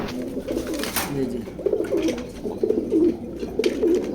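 Racing pigeons in a pigeon loft coo in soft, repeated throaty phrases over low background noise, close and moderately loud, with a brief rustle near the start.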